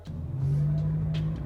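A Subaru WRX or BRZ drives on the road, its steady engine hum and low rumble holding close and even with light road noise, no talk.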